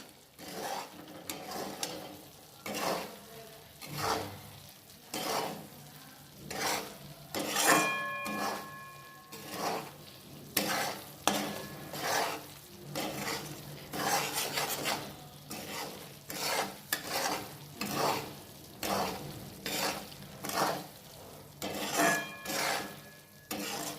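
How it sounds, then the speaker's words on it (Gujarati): Rajgira (amaranth) flour roasting in a pan, stirred with repeated rhythmic scraping and rubbing strokes, close and fairly loud, with a light sizzle underneath and no speech. "તમે જોઈ શકો છો કે હવે રાજાગરો શેકાઈ રહ્યો છે"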